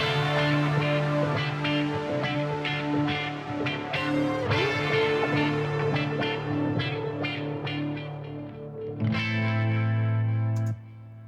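Four distorted electric guitar tracks play together in a thick, layered riff, loud and steady, ending with a sustained chord.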